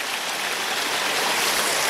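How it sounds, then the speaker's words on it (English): Steady rain falling at a creek near a gold mine, a dense continuous hiss of drops close by with no other sounds. "Oh, look at all that rain come down. Right on the lens now."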